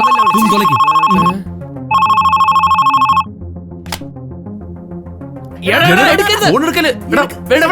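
A telephone rings loudly in two electronic bursts separated by a short pause. Voices talk in the gaps and afterward.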